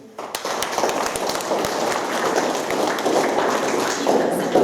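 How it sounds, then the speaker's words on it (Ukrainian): Audience at a school birthday celebration for pupils applauding, a sustained, fairly close burst of clapping from many hands that swells and continues for several seconds. "дружніми оплесками вітаємо іменинників весни"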